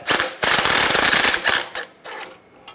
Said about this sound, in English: Using a 14 millimeter socket, take this bolt out.